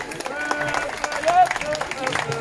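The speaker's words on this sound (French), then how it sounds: "Je vous demande d'applaudir monsieur Yannick Thivan." Audience clapping for a tennis player being introduced at a tournament, a steady patter of hands mixed with crowd noise and a voice over it.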